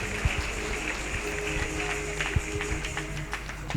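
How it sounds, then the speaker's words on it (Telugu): An audience applauding at a memorial gathering marking a priest's death anniversary at a cancer hospice, a dense steady patter of clapping hands heard from a distance and holding at an even level across the short stretch. "అందరికీ గట్టిగా చప్పట్లు కొట్టి వారికి అభినందనలు తెలియజేద్దాం"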